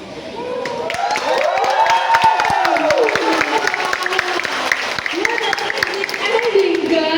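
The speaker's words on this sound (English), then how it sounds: "Let's give them another round of applause." Audience applause and cheering at a student performance event, a steady wash of clapping under a loud voice speaking over it, with shouts rising and falling.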